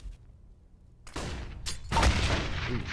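A grenade goes off in CS:GO with a sharp, loud burst after a quiet start, followed by a second blast and crackling debris.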